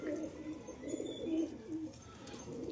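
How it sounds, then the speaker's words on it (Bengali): Pigeons coo on a rooftop, a low murmuring coo repeated several times at close range, fairly quiet and with no talk. "এ হচ্ছে কবুতর এখন বর্তমানে আমার কাছে যে কবুতরগুলো আছে"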